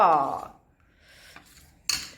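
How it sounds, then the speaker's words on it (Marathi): An iron tawa griddle is set down on a kitchen stove, landing as a single sharp metallic clank near the end after a quiet pause. "आता आपण ठेवूया तवा"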